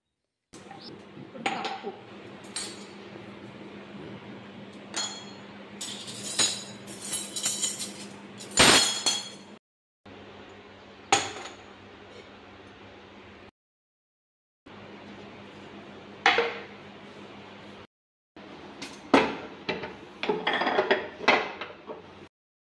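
Washed, dried spoons are dropped into kitchen containers, giving irregular clusters of bright metallic clinks and rattles separated by short pauses, close and fairly quiet.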